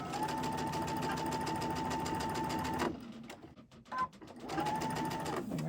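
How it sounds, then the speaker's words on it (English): Sewing machine stitching straight across a quilt seam, a fast steady mechanical whir that stops briefly midway, then starts again and runs to the end. "we're just going to start sewing right here and just go right across that seam to the end"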